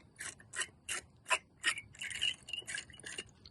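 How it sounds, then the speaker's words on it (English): Rhythmic gritty scraping of a wire terminal brush twisted on a car battery post of a 2000 Land Cruiser UZJ100, repeated rasping strokes close up with brief pauses between turns. "you always still want to brush it with a terminal brush. So I'll put that on there and I'll rotate it"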